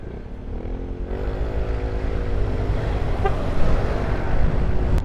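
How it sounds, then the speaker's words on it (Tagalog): Road traffic with passing motorcycles surrounds a rider heading home in Santa Rosa, a continuous, fairly loud rumble of engines and road noise without speech. "Traffic eh."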